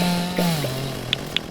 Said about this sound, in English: And we can use the chainsaw for this row here.